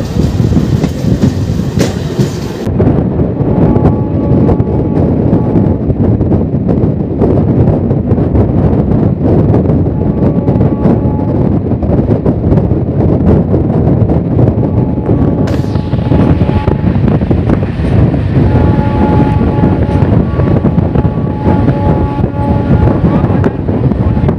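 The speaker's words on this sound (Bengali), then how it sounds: "এবার আমাদের ট্রেন ওভারটেক করবে হাওড়া থেকে চলা নিউ দিল্লি রাজধানী এক্সপ্রেস" The Howrah–New Delhi Rajdhani Express overtakes a local MEMU train as it passes alongside, giving a loud, continuous roar with a steady clickety-clack of wheels on rail joints and wind buffeting the microphone.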